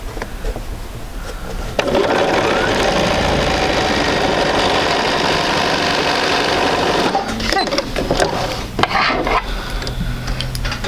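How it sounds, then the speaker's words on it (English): Sewing machine stitching quilt pieces in a fast, steady mechanical whir that starts abruptly, runs for about five seconds and then stops, followed by a few clicks and handling sounds. "I'm just going to continue sewing out to the end"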